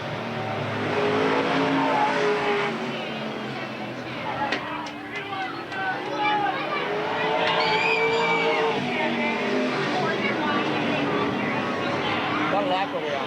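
Race car engines roar steadily at Eugene Speedway, a continuous loud drone of several cars circling the oval, with a commentator talking over the noise throughout.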